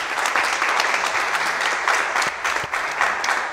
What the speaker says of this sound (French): On peut s'applaudir, les amis.